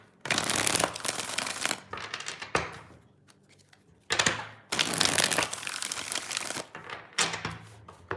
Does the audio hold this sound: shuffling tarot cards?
yes